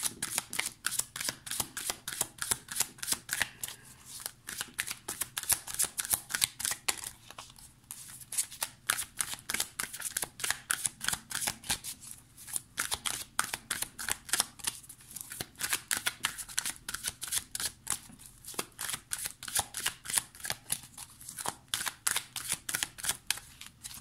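A tarot deck of green magic cards is shuffled continuously, a steady close run of quick crisp riffling flicks with brief pauses between passes.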